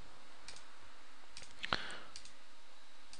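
A single crisp mouse click, close and isolated, while selecting layers with Shift held in Adobe Fireworks, against a faint room hiss.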